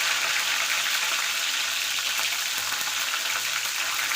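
Mustard seeds, curry leaves and green chillies fry in hot oil for a home-style North Karnataka greens dish, giving a steady, close, loud crackling sizzle that holds evenly throughout with no talking.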